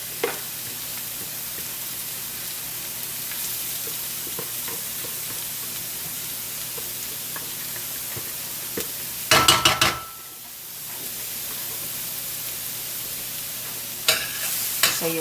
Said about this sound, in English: you want to just give it a nice mix, and you want to allow the cauliflower to cook down